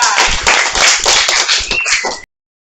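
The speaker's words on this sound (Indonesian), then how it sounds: "Oke, tepuk tangan buat mereka." Classroom applause from a group of students, a dense burst of clapping lasting about two seconds before cutting off abruptly, with a brief high whistle-like tone near the end.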